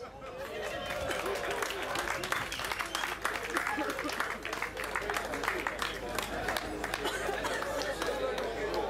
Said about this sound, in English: Round of applause for Chantal